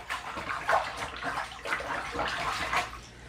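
Warm water sloshes steadily in a shallow bath a couple of inches deep as iodine is stirred in, a close, continuous swishing with no talking.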